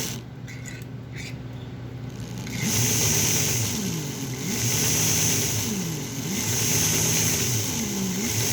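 A Fat Man motor running in a model train gives a steady mechanical whir that rises partway through and swells and fades in a repeating cycle, close and alone.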